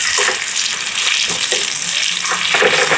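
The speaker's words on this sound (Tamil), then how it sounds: "அடுத்ததாக நாங்கள் கொஞ்சம் வெங்காயம் அரிஞ்சு போடுவோம். இது நல்லா மிக்ஸ் பண்ணிக்கிறோம்." Chopped onions and mustard seeds sizzle loudly in hot oil for a Sri Lankan dal curry tempering, a dense continuous crackling hiss close up with occasional stirring.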